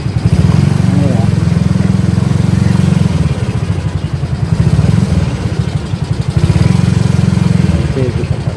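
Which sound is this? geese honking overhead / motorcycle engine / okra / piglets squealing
motorcycle engine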